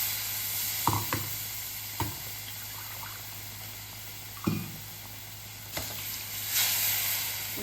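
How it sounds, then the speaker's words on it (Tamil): A kuzhambu pan sizzles and bubbles steadily while water rinsed from a mixer jar is poured in, with a few sharp clinks and taps from the jar and utensils against the pan. "நான் மிக்ஸி ஜாரை கழுவி இதில் ஊற்றிக்கிறேன்."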